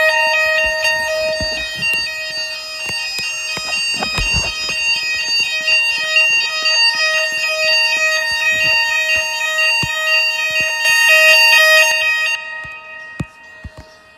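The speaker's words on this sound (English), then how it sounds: "Then I have to run away to the fire alarm." Fire alarm from Hochiki ringing loudly and continuously as a steady electronic bell tone, with faint clicks and handling noises underneath, then cutting off near the end.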